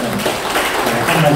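Crowd applause at a Korean Catholic Mass gathering, dense continuous clapping that stays loud and steady for a moment, with a voice faintly present underneath.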